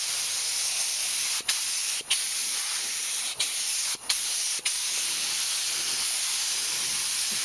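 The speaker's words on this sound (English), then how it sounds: "But I'll take it down and shoot another good coat on it." Spray gun laying clearcoat acrylic enamel on a 1998 Yamaha Vmax, a continuous loud hiss with several brief dips as the trigger is released and pulled again, no voices.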